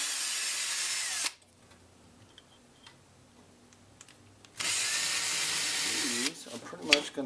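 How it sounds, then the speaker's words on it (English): A power drill bores a pilot hole while building a fishing rod holder onto a wagon: two loud steady whirring bursts, one about a second long and a longer one later, with quiet ticking and handling between them. "I'm going to go ahead and just start a pilot hole."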